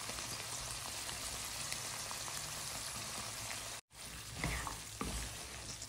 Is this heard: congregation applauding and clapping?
no